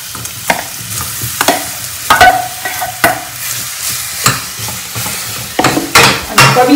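Wood apple pulp tossed into melted ghee in a pan and stirred, with repeated scraping stirs and a light sizzle, close and fairly loud, no talking.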